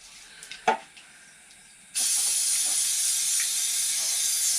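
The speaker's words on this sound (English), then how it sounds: "This is an olive oil spray." An olive oil spray can releases a single sustained, close hiss that starts abruptly and holds steady for a few seconds, after a brief knock.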